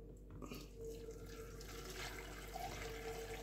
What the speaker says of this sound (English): Just gonna pour some milk on it now